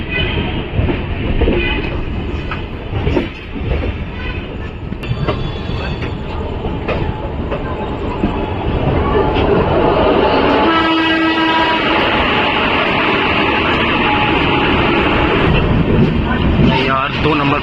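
The Dehradun Tanakpur Express rolls into Moradabad Junction at night, a loud sustained rumble of wheels and carriages with horn blasts, brake squeal and clattering rail joints, while people talk over it on a busy platform.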